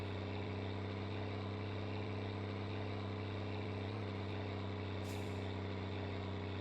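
A Gifu septic truck in My Summer Car idles with a steady, heavy diesel drone. It runs alone and continuously, and a brief hiss like an air brake comes near the end.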